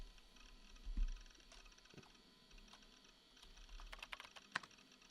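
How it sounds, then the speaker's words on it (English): Keyboard typing in the video game Chaos;Head Noah: quiet, irregular clicks of a computer keyboard, a couple of soft thumps early on, then a quicker burst of sharper keystrokes near the end, heard alone with no voices. "I sat down and began to type at the keyboard."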